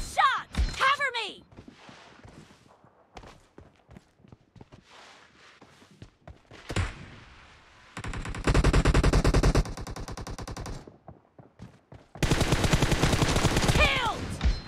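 Bursts of rapid automatic gunfire in the team deathmatch mode of the mobile shooter PUBG Mobile, loud sustained volleys with single shots and footsteps between them, over game voice callouts.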